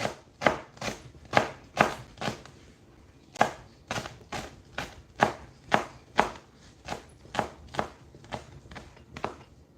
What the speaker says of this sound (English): So this is how you slice vegetable.